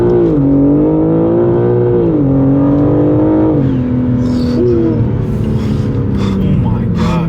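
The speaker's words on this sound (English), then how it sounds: "you can hear the intake sound, the little whooshing little sound" A modified BMW G80 M3 accelerates hard, heard from inside the car. The loud engine drone rises and dips in pitch through the gears, and a faint airy intake whoosh sits on top.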